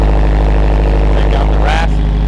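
A Subaru STI engine idles after a cold start, its steady exhaust rumble droning throughout, with a brief higher whine or rev near the end.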